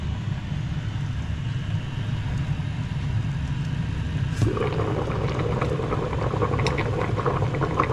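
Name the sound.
pot boiling on stove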